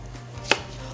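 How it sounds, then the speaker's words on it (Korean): One sharp knife chop through half a zucchini hits a cutting board, a single close thud over a low background hum. "호박 반 개도 감자와 마찬가지로 썰어서 준비해 주세요."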